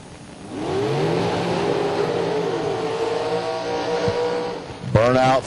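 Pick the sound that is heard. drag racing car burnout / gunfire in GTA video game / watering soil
drag racing car burnout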